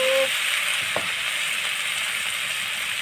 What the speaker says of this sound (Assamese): জিৰা জালুক আৰু শুকান জলকীয়াৰ পেষ্টটো এতিয়া দি দিলোঁ এতিয়া অকণমান লৰাই লওঁ